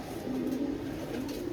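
A migratory pigeon coos softly and steadily, a low continuous murmur held close by for a moment with no other voices.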